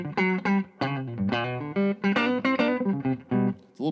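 An electric guitar fitted with a Fishman loaded pickguard with a 9-volt option plays a short melodic phrase of plucked notes and brief chords, clear and close, with a slightly bright, quacky tone and no talking.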